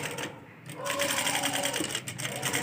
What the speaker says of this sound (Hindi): हल्के से सिलाई करनी है